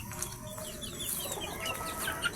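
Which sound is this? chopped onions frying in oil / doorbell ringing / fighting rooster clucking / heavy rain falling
fighting rooster clucking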